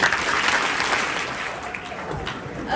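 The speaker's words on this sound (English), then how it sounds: "please recognize them with 3 big claps" An audience at a high school candidate speech event breaks into continuous, dense applause that fills the room throughout, with scattered voices mixed in.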